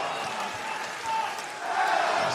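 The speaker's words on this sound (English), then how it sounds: "We got a great crowd here at the Kia Forum" A large wrestling crowd at the Kia Forum during an AEW Rampage match: a steady roar of many voices that swells toward the end, loud and close, with commentators talking over it.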